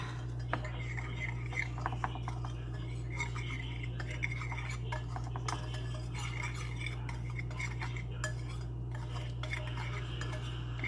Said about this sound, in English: we are just going to give that a whisk